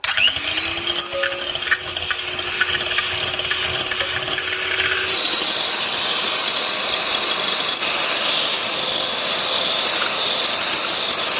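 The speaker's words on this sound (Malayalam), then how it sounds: "ഇനി ഇവനെ നമ്മൾ നന്നായിട്ടൊന്ന് ബീറ്റ് ചെയ്ത് കൊടുക്കട്ടെ കേട്ടോ" Hand mixer beating eggs with a teaspoon of vanilla essence for plum cake batter, a steady whirring motor that rises in pitch as it spins up, then turns into a dense, even buzz, close and alone.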